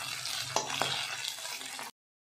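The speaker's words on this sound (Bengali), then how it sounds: "এই গরম তেলে আমি দিয়ে দিচ্ছি এগুলো" Prawns sizzle in hot oil, a close, steady frying hiss with a couple of brief sharper crackles, then sudden silence.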